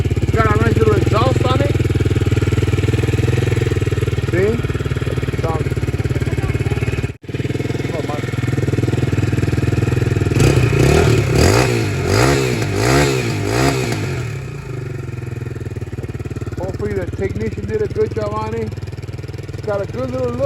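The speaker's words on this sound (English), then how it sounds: "It's got a nice little exhaust on it." A Vento 250 R series motorcycle with an aftermarket exhaust idles and revs nearby, its engine note rising in several throttle blips midway, while someone talks over it throughout.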